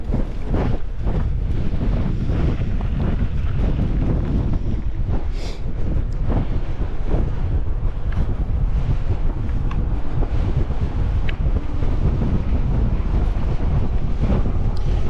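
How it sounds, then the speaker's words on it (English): Stiff wind on the Snake River Canyon Rim Trail roars continuously and loudly across the microphone, a dense buffeting rumble with no pauses and no talk. "we're probably going to be running into pretty stiff wind."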